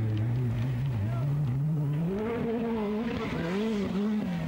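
Rally cars race flat out on a special stage of the 1984 Rallye des 1000 Pistes. Engines rev hard with rising and falling pitch, loud and sustained, as a car passes or changes gear.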